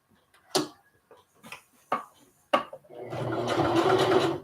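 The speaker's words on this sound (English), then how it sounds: "let me get this one stitched" A few sharp knocks and clicks of handling, then a sewing machine starts stitching a fabric lunch tote, a steady close whirring run filling the last second and a half.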